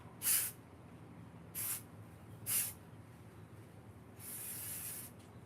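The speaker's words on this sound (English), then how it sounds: "this is actually the same exact color and brand and type of spray paint I used for the dashboard in my Volkswagen" Spray paint can sprayed onto an art piece: three short hissing bursts, then a longer sustained spray near the end, close and crisp against a quiet background.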